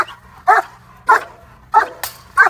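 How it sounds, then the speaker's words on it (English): A dog barks in four sharp, separate woofs spaced about half a second to a second apart, fairly close and clear over a quiet background, with no talking. "That's the barking I can start getting."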